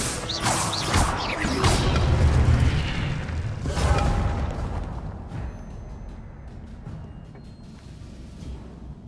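Incendio fire spell blasts in Hogwarts Legacy go off as a run of loud, crashing booms in the first few seconds. The rumble then fades away into quieter residual sounds.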